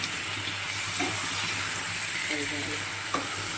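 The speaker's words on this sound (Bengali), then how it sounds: "আর বন্ধুরা যে কড়াটা নাড়াচাড়া হচ্ছে দেখতেই পাচ্ছ" Masala with turmeric and chili powder being stirred in a hot frying kadai for a prawn dish, giving a loud, continuous sizzle with faint scraping of the ladle throughout and no talking.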